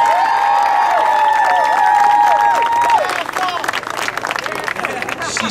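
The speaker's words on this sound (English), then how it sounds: "let's give a big round of applause to my beautiful wife" Applause and cheering from a crowd at a 2015 city council campaign kickoff in El Sereno, a steady wash of clapping with whistles and whoops rising over it, fading into scattered claps and crowd murmur.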